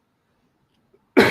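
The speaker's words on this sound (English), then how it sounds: "Oh, I got a cough." A single short, sharp cough bursts out right at the end after near silence, close and fairly loud.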